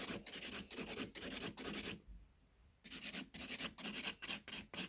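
Hand file rasping back and forth over pointed stiletto acrylic nails, quick steady rubbing strokes up close, with one brief pause midway before the rhythmic scraping resumes; no talk.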